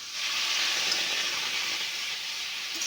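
Water poured into a hot wok holding beetroot bursts into a loud, steady hiss of sizzling steam that holds strong for a few seconds, then eases slightly.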